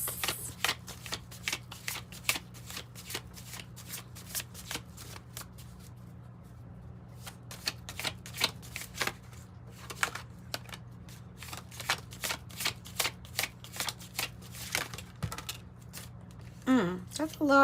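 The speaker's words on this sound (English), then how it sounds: "I have been shuffling for quite a minute" Tarot cards are shuffled by hand in quick riffling bursts of crisp flicks and snaps, close and clear over a low steady hum, with short pauses between bursts.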